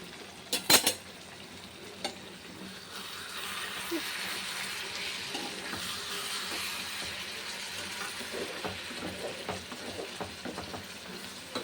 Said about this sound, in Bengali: চলো একটু নেড়ে দিই